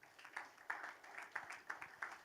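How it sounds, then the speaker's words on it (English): Audience applause for the Phantoms franchise leaders at the CPL player draft at Newlands Stadium, a faint, distant patter of clapping with soft rhythmic bursts throughout. "Let's give them a round of applause"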